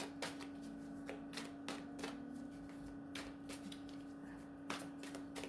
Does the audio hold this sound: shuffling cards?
yes